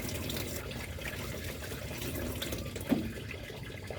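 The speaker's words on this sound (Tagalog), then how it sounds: "maghugas muna tayo ng kamay para malinis yung ating kakang gata" Hands washed under a running kitchen tap give a soft steady stream of water with faint splashing and a brief clink near the end, quiet and without talk.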